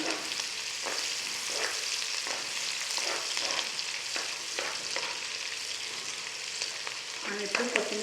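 Chopped onion frying in hot oil in a pan for a sweet corn Manchurian gravy, giving a steady, dense sizzle with occasional stirring scrapes and soft clinks, close and continuous.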